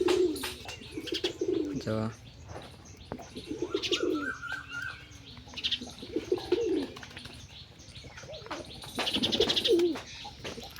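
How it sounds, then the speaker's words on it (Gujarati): Pigeons coo in low, repeated throaty calls near a nest with young chicks, with some faint chirps and a person talking over them at times. "બીજો કબૂતર આવી ગયો"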